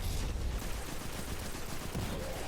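A basic auto rifle fires in Destiny 2 PvE combat, a quieter steady rattle of rapid shots running continuously, blended with explosions and battle noise.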